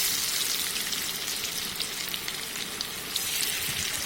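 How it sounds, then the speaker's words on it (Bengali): Paneer pieces frying in hot oil in a wok give off a steady, dense sizzle that carries evenly and loudly all the way through, with no talking over it. "এবার কড়াইয়ে তেল দিয়ে পনিরগুলো ভালো করে ভেজে নেব।"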